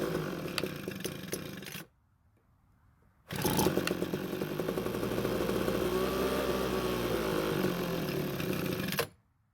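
A Ryobi leaf blower's small two-stroke engine, just after a carburetor L-screw adjustment, buzzes briefly, cuts out, then restarts and runs steadily for several seconds before stopping abruptly.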